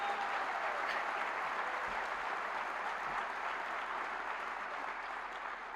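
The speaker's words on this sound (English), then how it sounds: "If we could give my mom a round of applause right here in the front row." An audience claps in a steady, even wash of applause at a college day event, fairly faint and continuous for several seconds.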